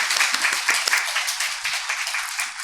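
A church congregation applauds steadily during a dawn prayer service, dense clapping filling the room at a loud, even level throughout.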